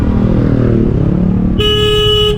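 A motorcycle engine rumbles steadily on a Darjeeling hill road, then a bright, sustained horn honks once for nearly a second, loud and close.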